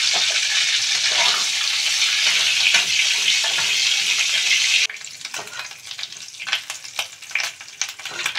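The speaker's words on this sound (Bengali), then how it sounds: "তেলের মধ্যেই আমি দিয়ে দেব গোটা গরম মশলা" Whole garam masala of cardamom, cinnamon, cloves and black peppercorns sizzles loudly in hot oil, a dense steady frying hiss that turns into broken crackling with scattered stirring clicks partway through.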